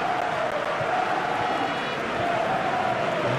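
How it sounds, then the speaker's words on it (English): Stadium crowd murmur before Villarreal versus Real Madrid in La Liga, a steady dense wash of many voices with a faint sustained tone, constant and moderately loud with no clear cheers. "There is still movement in the crowd, plenty of people yet to take their seats."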